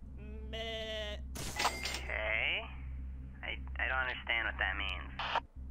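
In the Henry Stickmin video game, a sheep bleats several times in short wavering cries, clear and close, mixed with other game sound effects and brief voices.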